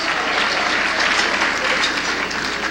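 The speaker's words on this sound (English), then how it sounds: "give my mama a round of applause." An audience at a lecture event applauds the speaker's mother, a brief, even burst of steady clapping from a crowd, sustained at full strength without speech over it.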